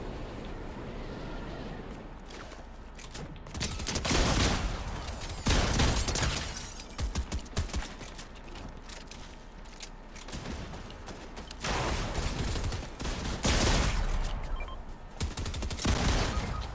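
Rapid bursts of gunfire from a Fortnite Zero Build match, loud clattering volleys in several clusters with mechanical clicks and creaks in the quieter gaps between them.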